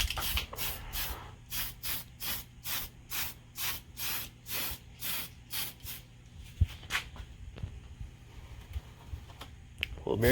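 Repeated short bursts of aerosol spray paint applying a touch-up coat to a weathered TRX4 Dodge Power Wagon RC truck, about a dozen evenly spaced hisses that then give way to quiet handling noises.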